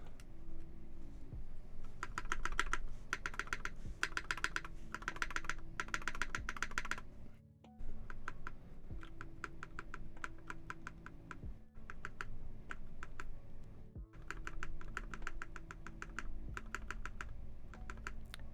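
Typing on a Monokei Kei keyboard fitted with Alpaca switches gives steady, close clacking keystrokes in quick runs, broken by brief pauses and occasional deeper spacebar thocks.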